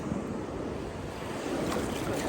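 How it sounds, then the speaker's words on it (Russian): Pacific Ocean waves break on a beach as a steady, close roar of surf, with wind buffeting the microphone throughout and no voices. "Волны идут!"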